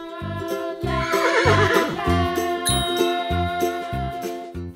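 A horse on a farm lets out a long, loud whinny that rises and trembles, heard over a steady rhythmic musical beat with no talking.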